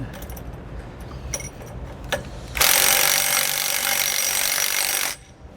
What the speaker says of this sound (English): We're going to snug up the hardware for our U-bolts here first.